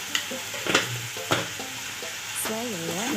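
Chopped tomato with green chillies and spices fries in a pan while a spatula stirs and scrapes, giving soft sizzling with sharp clinks, and someone talks over it in the second half.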